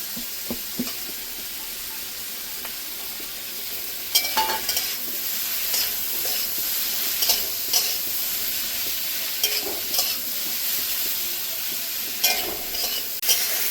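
Potato pieces fry with bitter gourd (karela) in a pan for a Bengali vegetable dish. A steady close sizzle runs throughout, broken by scraping and tapping as a spatula stirs the pan.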